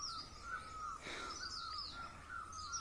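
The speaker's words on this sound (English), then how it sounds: "The birds are singing." Outdoors on a path strewn with rhododendron flowers, birds call in repeated high warbling phrases, faint and somewhat distant over a quiet background, with no talking.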